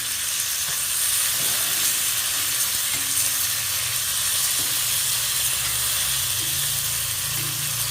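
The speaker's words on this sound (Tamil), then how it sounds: "இப்போ நான் தக்காளியை போடுறேன்" Tomatoes frying in a hot pan of browned masala for a village-style brinjal and mutton kuzhambu give off a loud, unbroken sizzle and steamy hiss, with faint stirring scrapes underneath throughout.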